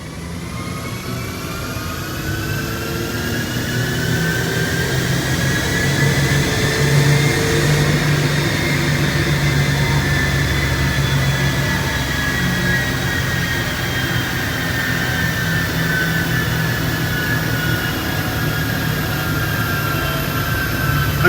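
A car engine on a Revolt dyno in Poland drones loud and continuous as it pulls through fourth and fifth gear, its pitch climbing and holding steadily over about twenty seconds with no speech.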